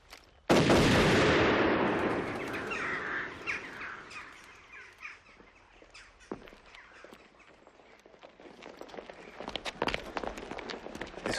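In a war drama, a single loud gunshot or cannon blast cracks out and rumbles away into the distance. Birds call and footsteps shuffle faintly afterward, with scattered small knocks and no talking.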